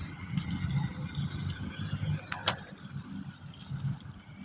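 A water pump at a construction site runs while water gushes and fills a container, a steady hiss and splash with a brief louder surge midway, and people talk nearby.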